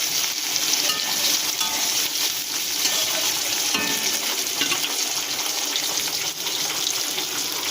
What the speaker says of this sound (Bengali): পেঁয়াজগুলোকে লাল লাল করে ভেজে নেবো